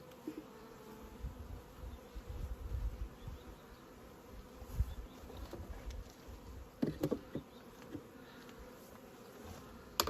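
A honeybee swarm buzzes steadily in a new hive, a dense, fairly quiet hum that continues throughout with small flickers of movement and occasional faint knocks.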